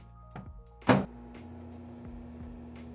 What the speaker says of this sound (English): let's pop it back into the microwave and cook that for